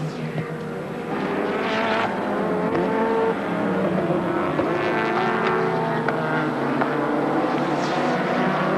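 Colin Bond's number 4 Caltex Sierra touring car racing at Amaroo Park in 1989, a loud continuous engine roar that builds and holds, with passing revs and no talk over it.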